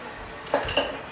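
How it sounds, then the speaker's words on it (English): A big spoon clinks twice against a mixing bowl of oatmeal raisin cookie dough, two short close metallic knocks over quiet kitchen background. "I'm gonna actually use one of my spoons."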